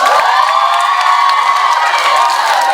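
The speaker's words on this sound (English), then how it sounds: "Let's all applaud him." A school STEAM talks event crowd erupts in loud, sustained cheering and shouting, including children's voices, a dense continuous roar with little distinct clapping that holds steady throughout.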